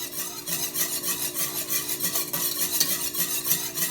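Sweetened condensed milk being stirred in a pan, a steady scraping and rubbing swish repeating in an even rhythm, close by and moderately loud with a faint sizzle underneath and no talk.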